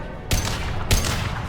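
Two rapid bursts of gunfire from the video game Mass Effect 2, each a sharp crack followed by a sustained rattling volley, loud and close with no voices over it.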